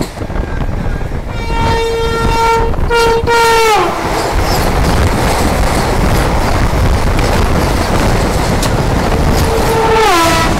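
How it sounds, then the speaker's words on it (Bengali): The Howrah–NJP Vande Bharat Express rushes in loud and near, sounding long horn blasts that bend downward in pitch as it passes, followed by a steady rolling roar of wheels and a final horn call. "চলে আসছে কিং এনজিপি হাওড়া বন্দে ভারত"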